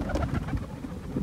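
Pigeons coo softly nearby, a brief run of low, throaty murmuring calls close to the ground.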